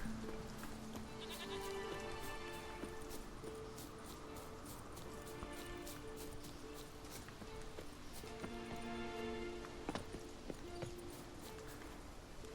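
Goats bleat repeatedly in The Witcher 3 game world, several calls overlapping over a steady bed of ambient noise, with faint hoof-like clopping mixed in and no one speaking.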